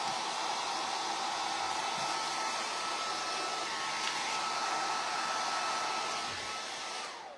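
Hair dryer blowing steadily on a backer, a constant loud whooshing hiss held close for several seconds before easing off at the end.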